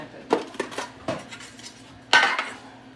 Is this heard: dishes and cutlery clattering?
yes